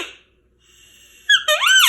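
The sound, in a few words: elk call being blown, squeaky hard-to-blow call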